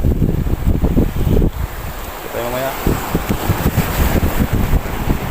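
Strong sea waves and gusting wind pound a breakwater at Al Mina in Abu Dhabi in bad weather, loud and continuous with wind buffeting the mic, while someone talks over it briefly.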